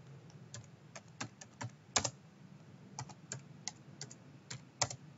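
Typing on a computer keyboard to enter an R command, a quick irregular run of crisp key clicks close to the microphone, with a few harder presses standing out.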